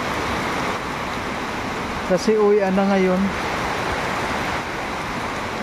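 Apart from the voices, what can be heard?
rain falling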